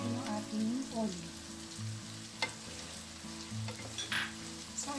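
Picadillo with green peas and olives sizzles steadily in a pan, a continuous close frying hiss with faint stirring scrapes and soft taps, no talk.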